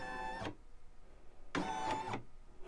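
Embroidery machine moving its hoop to trace the stitch outline for a baby bib design, two short whining motor runs with a pause between, faint and close.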